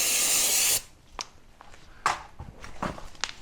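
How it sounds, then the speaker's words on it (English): A spray can blasting a cleaner onto a part of a Rokon motorbike's MiterBox, one loud close hiss lasting under a second, followed by quiet clicks and handling sounds. "Give the old spray down."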